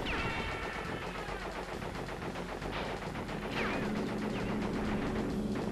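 Rapid gunfire aimed at the player in the platform game Crash Bandicoot 3, a dense stream of quick shots under game music and effects, steady and fairly faint for about six seconds.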